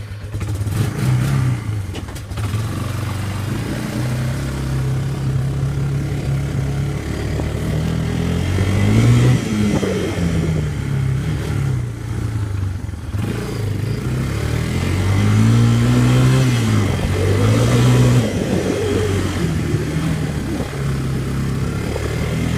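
A Yamaha Bear Tracker 250 ATV engine drones steadily while riding, rising and falling in pitch as the throttle changes, loud and close with a rough mechanical buzz and no talk.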